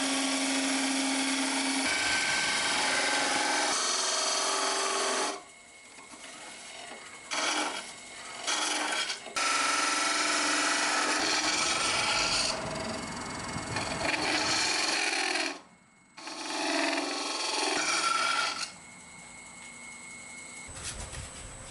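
A tool grinds and scrapes steadily against wood spinning on a lathe, the harsh carving noise stopping and restarting in several long passes.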